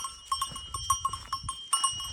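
A flock of sheep moves along behind a bell, which clanks in an uneven, repeated rhythm over soft hoof and animal movement.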